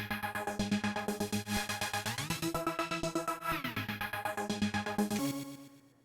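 Synth lead playing slow triplet figures with a sawtooth-style rhythmic gate, chopping into a steady pulsing pattern over a beat, loud and upfront, fading out at the end.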